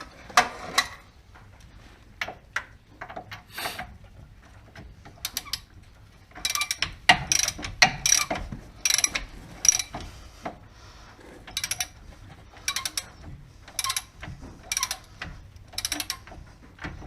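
A ratchet wrench works loose a tie-rod fitting on a Dodge Caravan, giving bursts of close, clicking mechanical ratcheting and clanks spread over the clip with short pauses between strokes.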